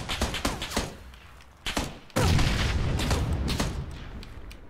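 In PUBG, a thrown grenade bursts about two seconds in with a loud heavy blast and a long rumbling tail, after several sharp gunshot-like cracks.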